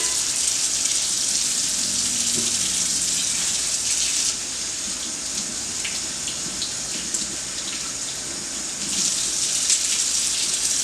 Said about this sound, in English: Do you want to rinse the rest of these going in there?